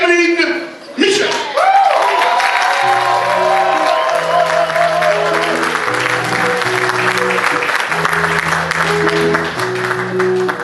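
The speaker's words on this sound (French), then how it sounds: "Ceci pour applaudir, pour accueillir très fort la femme flamme" An audience at a televised Haitian celebration breaks into sustained applause to welcome a singer, a dense, loud wash of clapping with some cheering, while music plays beneath it.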